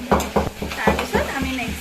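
Tomatoes fry in oil in a pan while being stirred in repeated strokes, each scrape of the spatula rising over a steady sizzle, close up.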